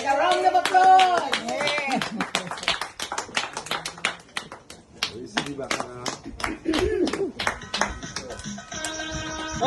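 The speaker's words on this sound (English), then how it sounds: "All right, a round of applause." An audience claps during a lively carnival-themed broadcast, sharp hand claps scattered throughout and mixed with loud voices and singing.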